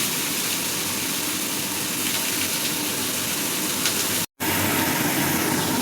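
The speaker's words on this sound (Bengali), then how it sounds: "মা এখানে পেঁয়াজ ভাজতে দিয়েছে" Thinly sliced onions fry in hot mustard oil with a steady, close sizzling hiss that runs almost unbroken, apart from one brief drop-out near the end.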